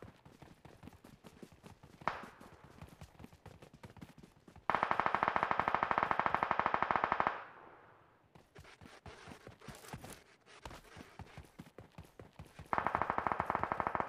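Automatic gunfire in the mobile battle royale game BGMI (PUBG Mobile): two long, loud bursts of rapid fire separated by quieter stretches of scattered single shots and clicks.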